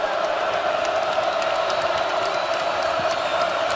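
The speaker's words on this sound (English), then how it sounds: "Great crowd" A large crowd inside a college basketball arena in East Lansing during a Maryland at Michigan State men's game roars and cheers steadily, a dense continuous wash of voices with scattered whoops.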